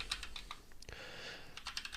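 Fingers tap steadily across a computer keyboard while a line of Python code is entered, the keystrokes quick and faint in a quiet room with no speech.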